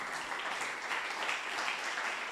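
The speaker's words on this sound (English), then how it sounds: "Let's give a round of applause." A round of applause from a seated audience at a talk on energy communities and renewable energy, steady dense clapping filling the room at moderate volume with no voices over it.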